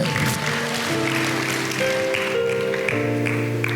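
A church congregation claps for Jesus during an evangelical worship service, a steady wash of applause running beneath sustained keyboard or organ chords for the whole stretch.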